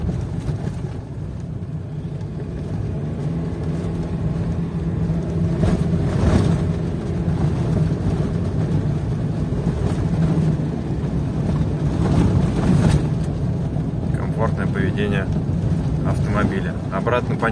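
Nissan Patrol Y61 rolling along a packed gravel dirt road at speed, a steady low road rumble and tire noise with wind buffeting, continuous and close throughout.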